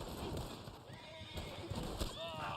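A horse in the video game Red Dead Online clip-clops along with a brief whinny, faint and mixed under a voice and other game sounds.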